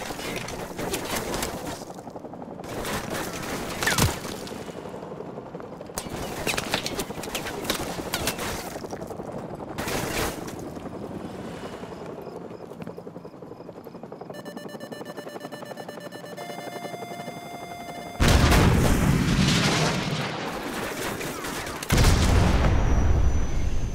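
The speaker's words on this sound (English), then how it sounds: "grab another Stinger and fire again!" Stinger missile launcher in Call of Duty: Modern Warfare Remastered, loud repeated game blasts and booms over an ongoing battle din, with beeping lock-on tones before a final heavy launch and roar.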